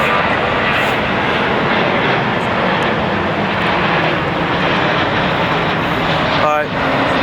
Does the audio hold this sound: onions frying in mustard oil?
no